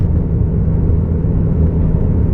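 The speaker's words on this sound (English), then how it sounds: "I'm happy with the sound that the car makes now." Steady low exhaust rumble from a Nissan fitted with a Nismo exhaust and Fabworx Y-pipe, a continuous deep drone with no talk, heard close while driving.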